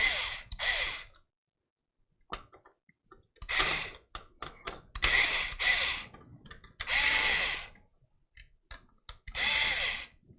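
An electric screwdriver set to full torque drives PC standoff screws in a series of short, close whirring bursts separated by quiet gaps.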